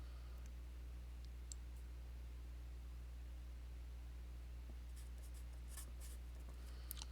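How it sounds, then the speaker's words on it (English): Faint scratching and light ticking of writing while working out the general solution to a trigonometric tangent and cotangent equation, steady and quiet with a few sharper clicks near the end and no talk. "So I'm going to start writing out the general solution here"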